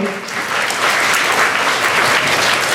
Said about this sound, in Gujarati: ઉપસ્થિત દરેક ભૂલકાઓ પોતાના માટે જોરદાર તાળીઓ પાડશે પોતાના માટે